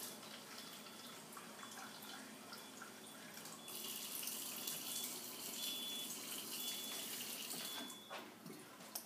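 Alkaline water running steadily from a Kangen water ionizer machine spout, a continuous close hiss and splash that grows a little louder midway and stays fairly faint, with no talk over it.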